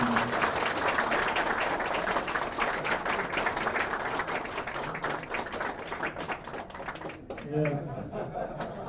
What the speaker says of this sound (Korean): 여러분 큰 박수로 환영해 주시면 감사하겠습니다